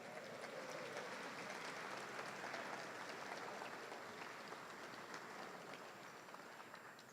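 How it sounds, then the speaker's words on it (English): Steady, dense clapping rolls through a reception room as guests applaud a legislator being honoured, a continuous hiss-like patter of many hands, fairly distant and even in level with no voices over it. "Big applause for him."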